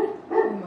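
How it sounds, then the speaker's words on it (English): A dog barks once or twice from behind the closed front door of a house during a doorstep visit, muffled but fairly strong, with no talk over it. "Is the dog in a cage?"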